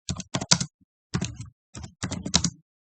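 Close, crisp keystrokes on a computer keyboard come in quick bursts separated by short pauses, clattering clearly against a silent background with no voices.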